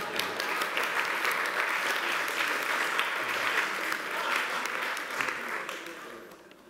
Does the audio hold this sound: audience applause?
yes